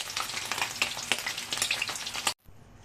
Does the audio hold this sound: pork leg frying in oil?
yes